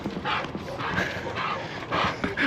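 Several dogs bark loudly and close by in quick, irregular bursts, with yips mixed in and a faint voice in the background.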